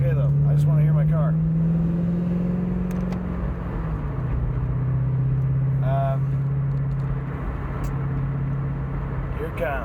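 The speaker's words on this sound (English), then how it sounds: "I just want to hear my car" A car driving across a bridge at about 45 to 50, its steady engine and road drone loud and constant throughout, with a voice speaking over it.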